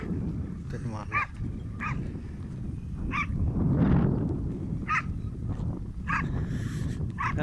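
A dog whimpers and gives short yipping barks in repeated bursts over a steady low background rumble, moderately close, with a louder swell midway.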